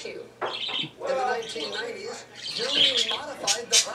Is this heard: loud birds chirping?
yes